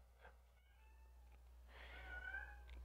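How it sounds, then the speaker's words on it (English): Cats meowing indoors, a faint brief call early on followed by a louder, drawn-out meow toward the end, with a low steady hum underneath. "Cats, can you please be quiet?"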